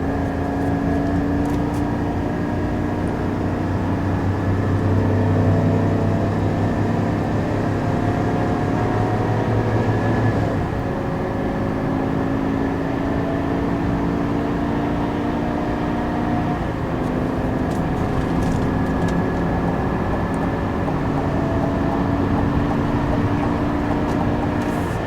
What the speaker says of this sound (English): I'm going to show you guys some of the acceleration from 30. I'm not going to go wide open throttle